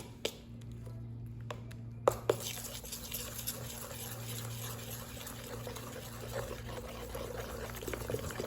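Sharbath syrup poured into a banana drink: a thin, steady liquid stream trickling into a glass after a few sharp clinks, over a constant low background hum, close and fairly quiet.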